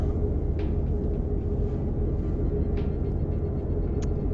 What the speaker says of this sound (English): since the truck's so loud